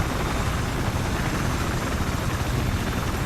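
A helicopter flies during a Battlefield-style conquest match on Wake Island, its steady rotor and engine roar dense and continuous at close range throughout, with no talk over it.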